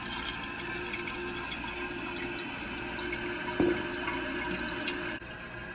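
Water flows into a toilet tank through the fill valve, a steady, continuous hiss and trickle with one small splash or knock partway through.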